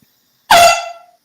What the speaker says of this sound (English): You didn't air horn me, bro.